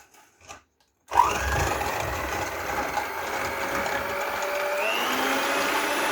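An electric hand mixer whips cream for tiramisu, starting abruptly after a short pause and then running as a steady, loud motor whine close by, its pitch shifting slightly with the speed and the beaters churning through the cream.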